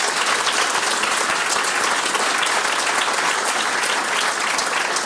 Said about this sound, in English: Please give a round of applause for all our 3 speakers for their presentation.